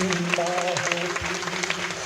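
An audience claps through a short burst of applause at a comic Hindi poetry recital, close and dense.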